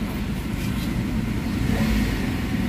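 A Toyota Avanza with low power and delayed throttle revs its engine, a loud sustained mid-pitched roar that rises slightly and holds without falling back to idle.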